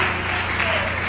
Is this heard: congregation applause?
yes